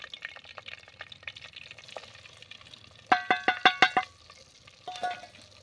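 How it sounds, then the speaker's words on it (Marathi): Mustard seeds, cumin and spices sautéing in hot oil for Maharashtrian amti, soft stirring and faint sizzling, then a quick run of six sharp, bright clinks of a utensil against the pan and a later brief scrape. "मसाले चांगले तेलावरती परतून घ्यायचे आहेत"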